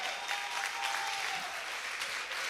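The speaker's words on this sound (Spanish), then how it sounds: "alguien que le dé un aplauso al Señor" Steady applause from a church congregation praising God, even and moderately loud throughout, with no voices standing out.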